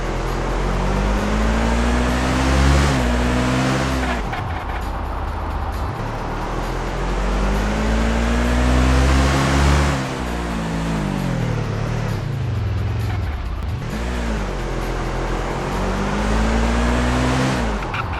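The buggy's engine in the Overpass 2 game drones and revs, rising and falling in pitch across repeated accelerations and gear shifts, loud and close throughout.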